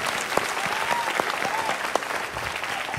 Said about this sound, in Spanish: Vamos a recibir con un fuerte aplauso a Estrellita Lucero.